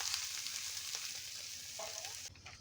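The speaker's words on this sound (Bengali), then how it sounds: "তো এবার আমরা এর মধ্যে দিয়ে দেবো নারকেলের দুধটাকে আমরা এর মধ্যে দিয়ে দেবো" Coconut milk goes into spices frying in oil in a pan for Bengali prawn malai curry, giving a steady, soft sizzle and hiss close by with no talk.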